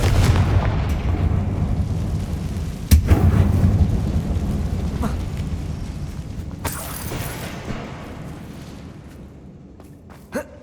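A Confringo fire spell in Hogwarts Legacy, a video game, bursts with a sharp boom near the start, followed by a rumbling, crackling blast that slowly fades, with small clicks and a final thud.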